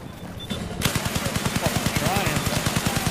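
Machine gun fire in Battlefield 4 starts suddenly and continues as a loud, steady rapid burst of evenly spaced shots.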